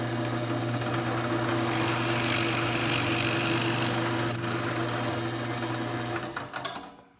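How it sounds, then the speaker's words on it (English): A drill boring out the bottoms of wooden cocktail smokers held in a jig clamped to a base, giving a steady, close, high-pitched whine that holds evenly and then winds down at the end. "we got all the bottoms drilled out"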